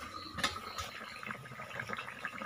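A pot of hilsa fish curry with flat beans simmers on the stove, giving faint, steady bubbling and soft popping close by, with no talking.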